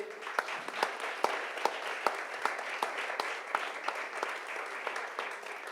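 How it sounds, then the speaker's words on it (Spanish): Audience applause for Andrés Terrile at an activists' school session: a fairly quiet, steady patter from a modest crowd, with some sharper individual claps standing out near the front. "para quien pido un fuerte aplauso"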